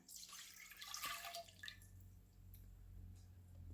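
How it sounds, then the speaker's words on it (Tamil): Sugarcane juice pours into a thick-bottomed pot for a cough remedy, a soft splashing liquid stream that fades after about two seconds into a low steady hum, faint and close. "ஒரு திக் பொட்டமில் சட்டியை வச்சு அதில் நாங்கள் இந்த கரும்பு ஜூஸை ஊற்ற போகிறோம்"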